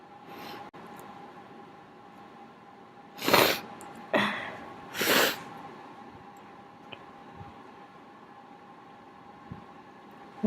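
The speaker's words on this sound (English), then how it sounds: "These sneezes are so wet." A person lets out three big, wet, spraying sneezes in quick succession, loud and close, between stretches of quiet room noise.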